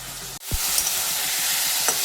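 Potatoes and pointed gourd frying with spices in a pan, a steady loud sizzle with brief stirring scrapes.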